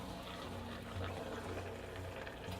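Shredded chicken taco meat mixture simmers in a pan, a steady low bubbling and sizzling as the last water reduces, continuous and close without talk.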